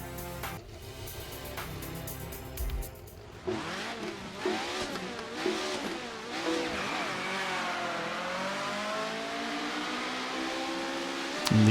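A rental race car in the iRacing Arcade racing game revs hard after a brief lull, its engine note climbing and dropping through repeated gear shifts and sweeping pitch changes, loud and close with occasional tire squeal.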